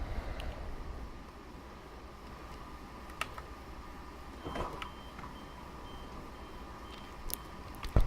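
AWS warning in the cab of a Class 375 electric train in Train Simulator 2018, heard as a repeating beep over a low, steady cab hum with a few faint clicks.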